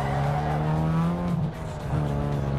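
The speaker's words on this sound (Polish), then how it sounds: "I można pączki kręcić" A rear-wheel-drive car in the video game Need for Speed Underground 2 spins donuts, its engine droning steadily with a smeared screech of sliding tyres that dips briefly and then resumes.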